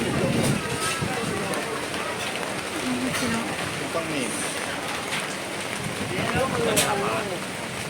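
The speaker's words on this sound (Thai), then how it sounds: "ทุกคนฝนตกแล้วตอนนี้" Steady rain patters and hisses across surfaces at an outdoor market in Thailand, a continuous wash of sound with people talking faintly beneath it.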